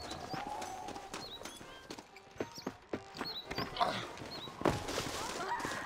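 Horse hooves clip-clop in Red Dead Redemption, a run of close, distinct hoofbeats with creaking tack and scattered game sounds, rising in intensity toward the end.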